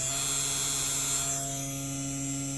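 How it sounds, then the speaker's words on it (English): The spindle of a CNC guitar inlay machine runs at steady speed, a constant high-pitched electric whine over a low hum, close and even throughout. "Turn on the spindle."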